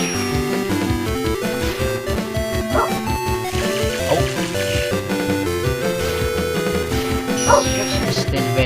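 A dog barks in the video game Summon Night: Swordcraft Story, with repeated yapping barks set against busy game music and effects that play loud and continuous throughout.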